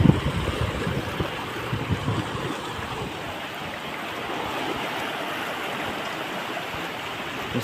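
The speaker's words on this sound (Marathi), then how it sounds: "नुसतं पाण्याचा आवाज आहे का" Fast-rising flood water rushes past and swirls into whirlpools, a steady, loud, broadband roar that continues without a break.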